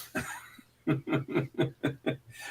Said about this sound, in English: But I'm coughing now